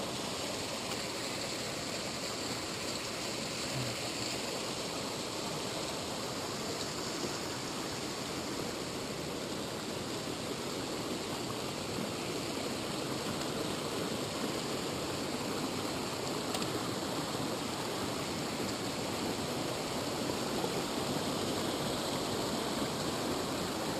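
The North Fork of Lone Pine Creek on the Mount Whitney Trail rushes steadily, a dense, constant mountain-stream roar close by and unbroken throughout, with no voices.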